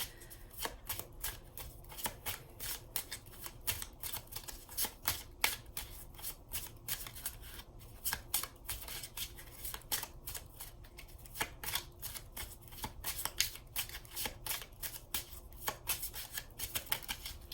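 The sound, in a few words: shuffling Botanical Inspirations oracle cards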